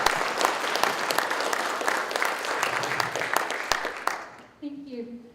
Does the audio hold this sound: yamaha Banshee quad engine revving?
no